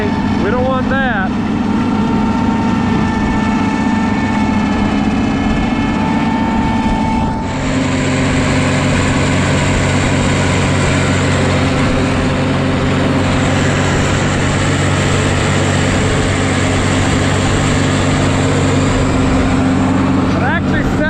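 A heavy rock crusher engine drones loudly and steadily nearby, like a tractor, its pitch shifting partway through as it works harder, with a person speaking over it.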